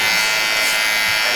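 Electric hair clipper trimming a beard in a barbershop, a loud, close, steady high buzz running through the whole brief moment while someone talks.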